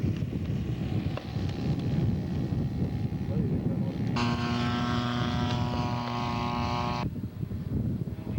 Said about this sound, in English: bringing in his prototype Chipmunk